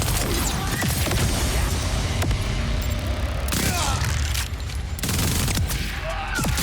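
Borderlands 4 SMG gunfire rattles in dense, continuous bursts, loud and close, with heavy booming impacts and a brief lull near the end before the shooting resumes.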